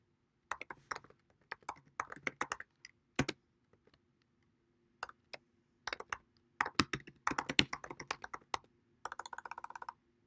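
Close computer keyboard typing in uneven bursts of crisp key clicks separated by short pauses, quiet and without talk, while entering code in RStudio.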